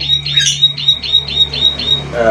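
A green leafbird repeats sharp, squeaky alarm notes in a quick, even series of about seven calls, loud and close.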